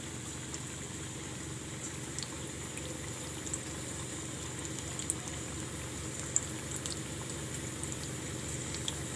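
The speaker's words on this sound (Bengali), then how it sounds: "এবার আমি উল্টে দিয়ে আরও 2 মিনিটের মতো আমি ভেজে নিয়ে তুলে নেব।" A Kabuli roll fries in hot oil with a steady, even bubbling sizzle that runs close and unbroken for several seconds, with a few faint clicks and no voices.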